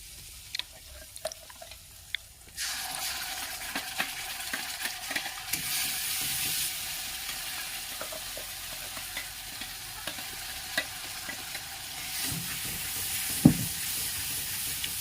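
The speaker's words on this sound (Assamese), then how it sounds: "এইখিনি এনেকৈ অলপ সময় ভাজিব লাগিব" Cashew and tomato paste fries in a pan along with fried paneer, with a steady loud sizzle, scattered stirring scrapes and spoon clinks after a quieter opening, and no talking.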